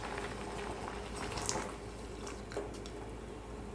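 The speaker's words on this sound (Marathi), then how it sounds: "याला अजून थोडी वेळ ठेवूयात उकळायला" Potatoes boil in a pot with a constant close bubbling and soft gurgles, a few small pops rising above the steady wash.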